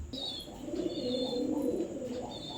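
Caged pigeons of fancy breeds softly cooing in a low, rolling, continuous murmur close by, with faint higher chirps over a quiet background and no voices.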